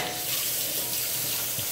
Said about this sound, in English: Here, I'll turn the water off for you.